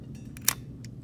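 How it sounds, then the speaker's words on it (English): A film camera's advance lever is cranked, giving a few soft ratcheting clicks with one sharper click in the middle, close up over a low room hum. "So crank the lever, the film advance lever"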